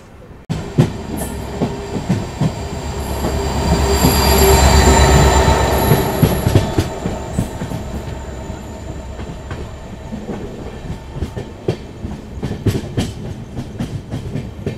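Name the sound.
Miraj Express passenger train passing on rails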